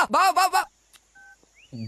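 After a brief vocal sound, a single short telephone keypad tone beeps once, clear and quiet.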